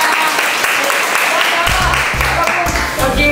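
Audience applause in a lecture hall closing a hands-on pork butchery and deboning class for food engineering students, a steady wash of clapping from many hands, with a voice speaking over it in the second half.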